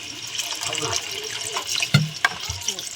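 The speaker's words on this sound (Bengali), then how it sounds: "অল্প আমরা জল দিচ্ছি" A small amount of water poured into a pot of chicken curry being cooked down, a brief close splash and trickle with a couple of sharper clinks, with a voice faintly in the background.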